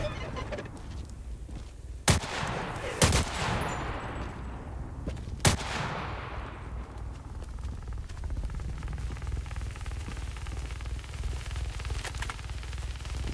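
Gunfire in the video game Active Matter, a few sharp, loud shots around two, three and five and a half seconds, with one short burst, over a steady low background rumble.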